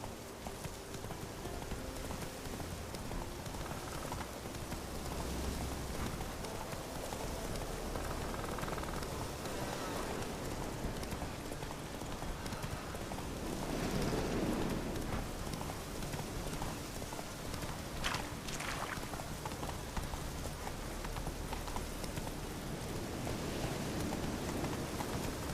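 Hooves of Roach, a horse in The Witcher 3, clip-clopping steadily at a gallop through rain, a continuous rhythmic patter blended with the hiss of falling water, moderately close and without talk.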